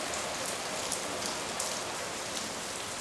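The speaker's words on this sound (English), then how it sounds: "It's raining, but it only makes it better because you cannot beat that sound." Tropical rain falling on a beach in the Seychelles, a dense, steady hiss of drops with faint individual patters, continuous and close with no voices.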